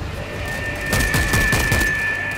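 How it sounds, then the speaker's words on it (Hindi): A rapid burst of gunfire in the video game World War Z, a string of sharp shots in quick succession over a steady electronic hum. "अरे गोलियां बर्बाद क्यों कर रहा हूँ अभी"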